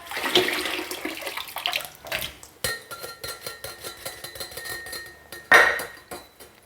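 Heated pasta is drained into a colander in a kitchen, with water pouring and splashing, metal pans and utensils clinking and knocking throughout, and a sharper clatter near the end.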